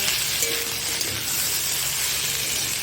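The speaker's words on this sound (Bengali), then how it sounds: "ভালো করে ভেজে নেব।" Ginger garlic paste and spices fry in oil in a pan, giving a steady close sizzle and hiss that runs without a break through the short clip.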